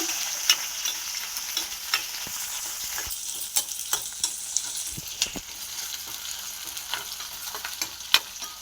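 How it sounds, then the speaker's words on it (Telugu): Cauliflower frying in a pan with cumin and onion, a constant bright sizzle with sharp clicks and scrapes of stirring at irregular intervals, close up and alone. "బాగా ఫ్రై చేసుకోవాలి"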